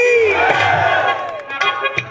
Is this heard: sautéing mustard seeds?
no